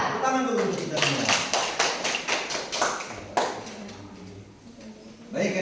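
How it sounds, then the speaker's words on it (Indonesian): A class of primary school children claps together in a rhythmic run of sharp, loud claps lasting about three seconds, then stops, with voices of the children and teacher heard around it. "Tepuk tangan dulu untuk kita semua."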